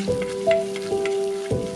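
Finely chopped garlic and a small piece of chopped ginger sizzle steadily in hot oil for a snakehead murrel fish curry, with a few soft clinks of a utensil stirring the pan.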